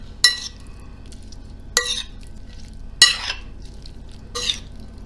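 A spoon stirs a black-eyed pea salad dressed with lemon juice and olive oil in a bowl, giving four short, crisp scraping strokes spaced about a second apart against a quiet kitchen background.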